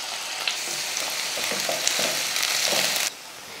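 Mustard seeds, urad dal, onion and curry leaves tempering in hot oil in a kadai, a steady loud sizzle and crackle with stirring that cuts off abruptly near the end.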